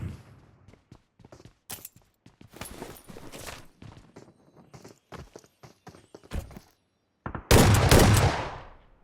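Shotgun blasts and other gunfire in the battle royale game PUBG Mobile, heard as scattered sharp shots and rapid footstep-like clatter, ending in one loud, close blast that trails off, with no talking.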